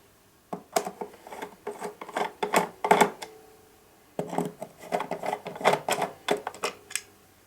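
A screwdriver turns out the battery cover screws on a Mattel toy hoverboard with close, dry scraping and ratcheting clicks in two bursts of short rhythmic strokes separated by a pause.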